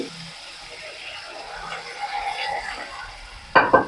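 Potatoes and water are stirred into a hot tempering of mustard seeds, asafoetida, fenugreek and curry leaves, with a soft sizzle and scraping, then a sharp metallic clatter of the spoon against the pan at the end.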